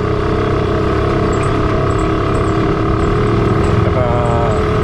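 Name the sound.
Yamaha RS 100 two-stroke motorcycle engine running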